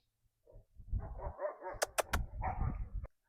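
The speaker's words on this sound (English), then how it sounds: "I had to go yell at the dogs." Several dogs bark and yip close by at a home garden, a quick run of sharp barks followed by a denser burst of overlapping barking that stops abruptly.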